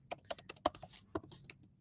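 Computer keyboard typing, about a dozen quick irregular keystrokes clacking nearby in a short, quiet burst with no voices.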